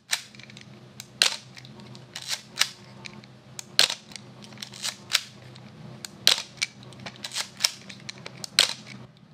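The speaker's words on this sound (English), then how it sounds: "I think this camera has one of the best shutter sounds," A series of sharp mechanical shutter clicks from a Yashica TL Electro-X film camera, about a dozen spaced irregularly over several seconds, crisp and close against a faint low hum.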